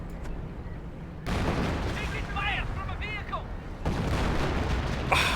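Artillery barrage in Company of Heroes, a World War II strategy game, rumbling as a dense, sustained roar of booms and blasts. Game voices and chirping tones sound briefly in the middle.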